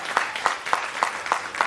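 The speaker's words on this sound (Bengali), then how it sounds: "ওর জন্য একটা জোরে হাততালি।" Audience applause for a child's song, a steady patter of clapping with regular louder beats, close and fairly loud, with no voices over it.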